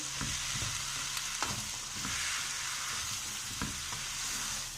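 Spices and peas being stirred into mixed vegetables frying in a pan for a curry, a steady close sizzle broken by scattered scraping stirs of the spoon, with no voices.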